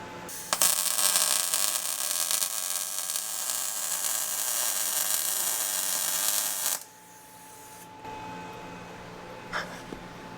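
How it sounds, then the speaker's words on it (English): Welding on a body-dropped 1960 1000SP car gives a loud, harsh, crackling buzz that runs steadily for about six seconds and then cuts off, leaving a quiet background with a faint tick. "left hand down weld"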